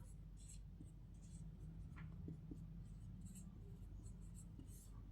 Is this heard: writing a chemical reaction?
yes